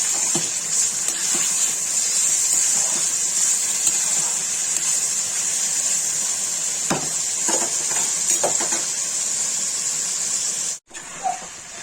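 Onions, salt and garam masala fry in a pan for restaurant-style malai chicken, sending up a loud, constant sizzle with scattered scraping stirs of a spoon and a brief break near the end.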